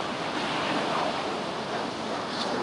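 Ocean waves and surf wash steadily at sea, a broad continuous rush with wind noise over the microphone and no voices.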